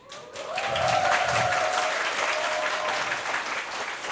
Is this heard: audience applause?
yes